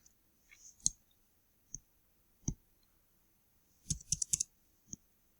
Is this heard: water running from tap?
no